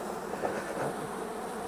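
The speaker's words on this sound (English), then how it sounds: "there's still a lot of bees left in this package" Honeybees buzz inside a package during installation, a dense continuous hum from many bees, close and steady, with no voices.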